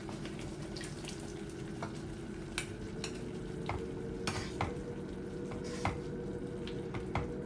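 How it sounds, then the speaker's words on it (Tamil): Ground curry leaf and garlic paste goes into a simmering tamarind gravy for vatha kuzhambu, giving a steady soft sizzle and bubbling with occasional stirring clinks against the pan, no talking. "இப்போ இதில் நம்ம அரைச்சி வச்ச கருவேப்பிலை பூண்டு பேஸ்ட்டையும் சேர்த்துடலாம்."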